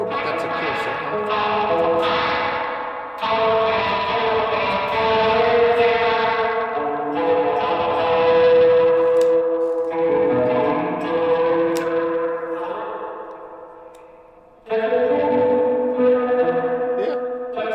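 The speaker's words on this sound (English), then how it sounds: "if you set them to a certain spot, you can kind of get a faux chorus kind of out of them." An electric guitar sounds through an effects pedal set for a faux chorus tone, producing loud, wavering, sustained chords with a shimmering, echoing quality, played in long phrases with brief breaks between them.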